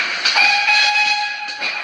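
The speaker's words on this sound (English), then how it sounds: "So here is the goods train." A steam goods train sounds a sustained, loud whistle in a steady shrill tone with hissing steam beneath, holding for nearly two seconds with slight swells and no talk.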